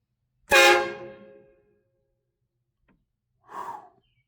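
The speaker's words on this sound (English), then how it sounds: "if you're buying train horns, you're looking for loud. Well, these things are freaking loud." Farben train horn kit fitted to an LS-swapped Dodge D150 truck, blasting one very loud, close horn burst that trails off, then a second shorter blast after a pause.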